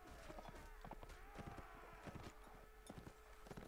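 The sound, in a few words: horse galloping hooves in the video game Mount & Blade Warband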